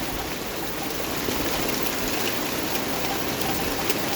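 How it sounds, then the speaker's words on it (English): Heavy rain mixed with hail pounds down steadily during a thunderstorm, a dense, loud, unbroken hiss with scattered sharper ticks throughout. "Rain and hail."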